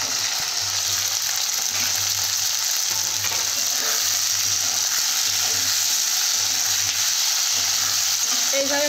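Potatoes and green peas fry in a rohu fish curry base, a loud dense sizzle running throughout with a low rhythmic mechanical hum pulsing beneath it, no voices.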